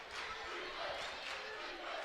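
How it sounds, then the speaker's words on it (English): A home crowd roars loudly and steadily at Bill Vining Arena during a close women's basketball game against Southern Arkansas, the cheering a broad, sustained din that fills the whole space. "The Magnolia crowd getting loud here at Bill Vining Arena."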